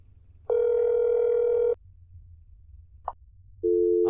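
A telephone busy signal inside a video game: a steady beeping tone runs for just over a second, a short click follows after a pause, then the tone starts again near the end, with no talking.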